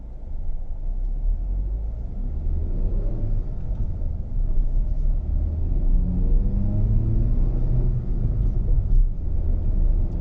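A Hyundai Venue's engine pulls away from a standstill: a steady, close low rumble that builds slightly as the car accelerates, continuous for about ten seconds with no talking.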